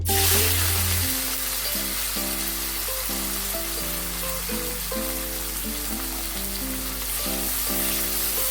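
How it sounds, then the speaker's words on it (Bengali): Turmeric- and salt-marinated prawns drop into hot oil and fry with a loud, steady sizzle that holds close and continuous throughout, with a low hum underneath and no talking. "আমি যে চিংড়ি মাছগুলো নুন আর হলুদ দিয়ে মেখে রেখেছিলাম সেগুলো এখানে দিয়ে দেবো এবং ভালো করে ফ্রাই করে নেব"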